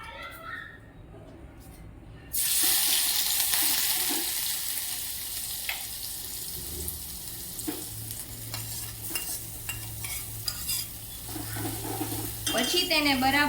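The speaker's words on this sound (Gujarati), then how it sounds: "તો આપણું તેલ ગરમ થઈ ગયું છે, તો ત્યારબાદ સૌપ્રથમ હું આદુ લસણની પેસ્ટ છે એ ઉમેરીશ" Ginger garlic paste hits hot oil in a pan for a hot and sour soup, giving a sudden loud, steady sizzle that runs throughout, with occasional stirring and utensil clinks close by.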